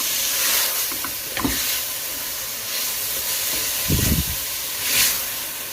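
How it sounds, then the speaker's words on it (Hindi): Chicken pieces fry in hot oil in a pan, a steady soft hiss of sizzling with a couple of brief louder crackles and stirring scrapes, heard alone without talk. "जैसे ही हमारा चिकन फ्राई होगा तो हम इसमें इसके स्पाइसेस ऐड करेंगे।"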